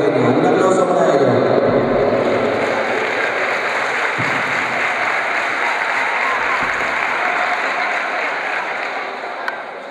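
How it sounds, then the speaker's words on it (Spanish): Spectators at a gym hosting gymnastics, boxing, Muay Thai and karate applaud a young children's group choreography, a broad wash of clapping in a large echoing hall mixed with crowd voices, slowly easing off. "Un aplauso para ellos."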